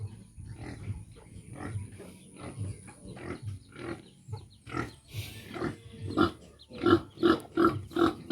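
Pigs grunt and oink repeatedly while being fed on a farm, loud close bursts that grow denser and more rhythmic toward the end, with some background chatter.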